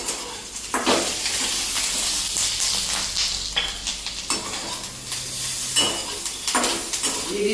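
Green chillies roast in hot oil in a pan for spicy paneer thecha, giving a steady close sizzle broken by repeated scraping and stirring strokes of a utensil against the pan, with no voices.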